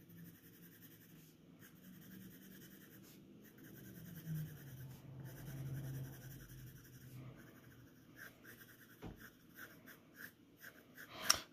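A pencil feathers shading strokes across paper in one direction, soft repeated scratches with short pauses as the point lifts, faint and close with no talking.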